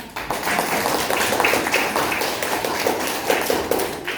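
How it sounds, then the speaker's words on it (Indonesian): Scattered hand clapping from a classroom group of students, a steady dense patter of claps lasting several seconds with faint voices mixed in. "Oke, tepuk tangan buat"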